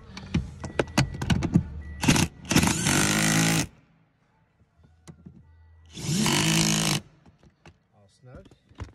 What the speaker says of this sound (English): snug those up with the air hammer, or impact